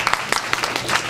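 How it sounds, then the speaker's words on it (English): A burst of audience clapping, dense and close, filling the whole short moment without any voices. "So let's give ourselves a big hand of applause."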